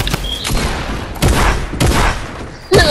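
Gunfire in the Fortnite video game, a rapid series of loud, close shots and booming blasts, with several heavy bursts about half a second apart and a sharp final crack, with no talking.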